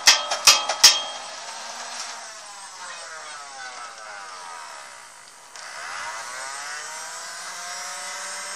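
Nerf Zombie Strike Bowstrike blaster motor winding up after a few sharp clicks, a thin whirring whine that rises, dips and spins up again.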